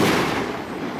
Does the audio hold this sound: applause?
no